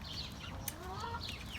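Hens in a poultry setting give soft, scattered clucks and chirps over a steady low hum, fairly close and moderately quiet, with no talk.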